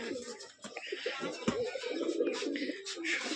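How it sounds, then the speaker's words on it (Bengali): Pigeons coo softly nearby in low, throaty rolls, with faint rustling and other bird sounds around them. "এই হলো কবুতর। আর এই ডাকছে"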